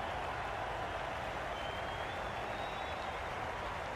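Steady crowd applause and cheering at an India vs Sri Lanka one-day international cricket match as a dismissed batter walks off, a continuous broad wash of clapping held at an even level throughout.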